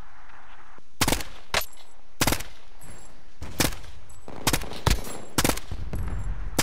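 Bursts of gunfire from the Warzone video game crack out in sharp, loud volleys roughly every half second to second, with brief rapid-fire clusters over a constant background of in-game ambience.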